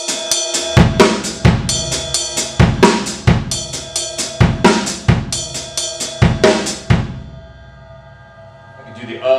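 Close drum kit playing a linear 5/3 pattern that begins on the E of 2 and the E of 4, crisp repeating hits with ringing cymbals for about seven seconds, then a quiet decay.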